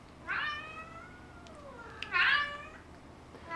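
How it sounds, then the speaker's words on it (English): In the background, a cat gives two drawn-out, whining meows about two seconds apart in an otherwise quiet room. "That's Rocket whining in the background"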